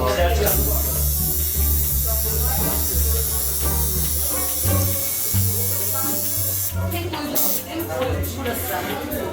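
A tattoo machine buzzing steadily during a first tattoo, a continuous electric hum with voices talking over it throughout.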